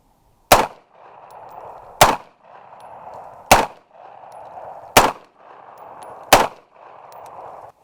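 Five sharp, unsuppressed 5.56x45mm rifle shots ring out about one and a half seconds apart. Each loud crack is followed by a short, fading echo.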